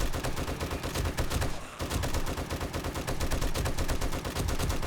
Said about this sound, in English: Pumping bullets into him.